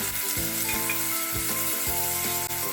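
Green peas go into a sizzling turmeric tempering, a loud, steady hiss and crackle punctuated by repeated knocks and clatters of stirring, close up with no talking.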